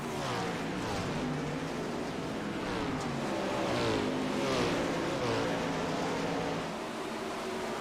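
410 sprint cars race on a dirt track, a loud, continuous engine roar with rising and falling revs as the pack circles, several cars blending together at a distance.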